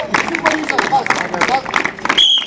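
A group claps hands during a police SDRF disaster-response training session, with quick, uneven claps mixed into busy crowd noise under a loud voice talking throughout.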